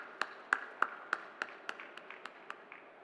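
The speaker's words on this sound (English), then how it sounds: "A big round of applause to our very distinguished speakers" A small audience at the close of a forum session on agrivoltaics in India claps sparsely, about a dozen distinct, fairly quiet claps in a loose, slowing rhythm.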